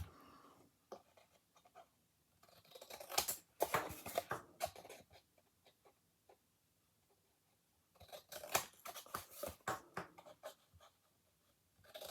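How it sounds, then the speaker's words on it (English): Scissors cutting along the corners of a small 8 x 8 inch craft piece, heard up close in two separate bursts of crisp snipping with quiet pauses between them. "so now I'm going to cut along those corners."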